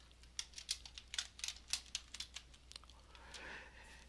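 Fingers type on a computer keyboard in a quick run of distinct, close key clicks, easing off into a soft rustle at the end.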